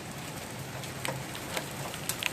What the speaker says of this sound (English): It's so cold, it's raining hail.